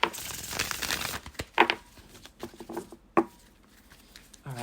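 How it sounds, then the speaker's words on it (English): A deck of tarot cards is shuffled by hand with irregular papery patters, riffles and soft crinkling taps, close and fairly quiet, with no talk over it. "Let me shuffle a little bit more."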